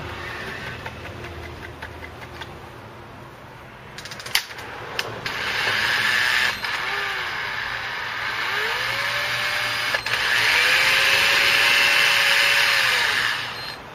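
A Seaborg 750MT electric fishing reel running after a bearing replacement gives a steady whirring motor hum with rising and falling tones, some clicks and clunks at first, then a sustained close mechanical whine.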